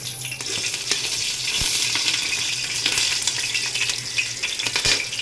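Cloves frying in hot oil for a pulao crackle and sizzle steadily, with occasional sharp pops and a faint clink of the pan, close and moderately loud with no talking.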